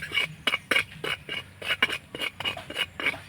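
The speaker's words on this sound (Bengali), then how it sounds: "একটু নাড়াচাড়া করে নেব।" Mustard oil and Kashmiri red chili powder being stirred in a bowl, a spoon scraping and tapping in a quick uneven rhythm of light clinks, fairly quiet and close, with no talking.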